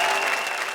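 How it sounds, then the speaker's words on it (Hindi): An audience at a Hindi comic poetry gathering breaks into dense, loud applause to welcome a poet, a continuous wash of many hands clapping that carries steadily through the brief moment. "हम जोरदार तालियों से स्वागत करें"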